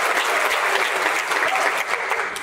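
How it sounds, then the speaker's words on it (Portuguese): A small group claps loudly and continuously for a couple of seconds, a dense, even patter of hands with no break. "Aê, palmas"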